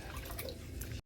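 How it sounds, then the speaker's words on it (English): Cold clean water runs and drips while something is rinsed of vinegar in a home kitchen, a soft, steady trickle with faint splashes, close and quiet, cutting off abruptly at the end. "then I will rinse it out with clean cold water until I don't smell any vinegar anymore"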